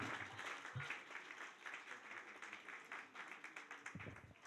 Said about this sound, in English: Round of applause for him again.